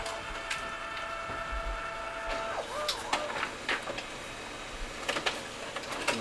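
A Samsung SCX-4729FW mono laser printer at work: whirring feed mechanism, whining motor tones and a run of clicks and clunks as paper passes through, close and moderately loud.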